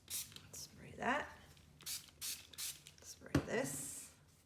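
Mica stain spray misted onto a distress ink mixed media tag in short, soft hissing bursts, faint and close, with quiet movement between sprays.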